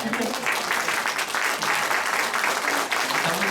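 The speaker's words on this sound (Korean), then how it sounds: "박수 한번 하십시다." A church audience claps steadily and warmly, dense applause filling the whole stretch at a consistent level.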